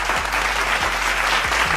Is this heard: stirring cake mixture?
no